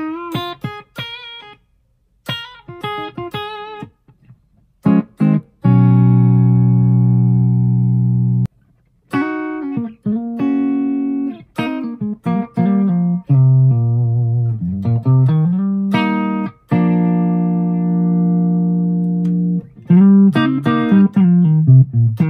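Clean electric guitar through a Bogner Ecstasy 101B amp, clear single notes and short phrases with brief pauses between, bright and undistorted.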